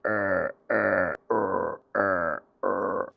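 A voice mimics a croaking frog, with five drawn-out, throaty, buzzing croaks separated by short pauses, close and fairly loud.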